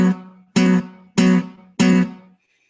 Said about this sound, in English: you're going to press down 2 strings, string 4 and 3. But you're going to play both of them at the same time